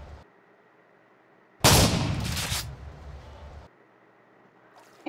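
A single loud in-game gunshot in GTA bursts out and rings on for about two seconds over a low steady background hum, heard alone without talk.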